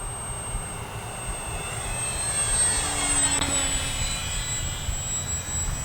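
An Arrows Trekker RC plane, a beginner model airplane, passes overhead with a thin whining motor drone that swells as it nears and then fades slightly, heard over low outdoor wind noise.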